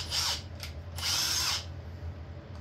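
A Ridgid power drill bores into a piece of metal clamped in a vise, giving two close, whining bursts with a short break between them, then easing to a low motor hum.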